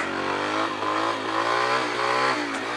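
A Yamaha TTR 125 dirt bike engine revs hard during a wheelie, a continuous buzzing mid-pitched drone that climbs and dips slightly, close and loud.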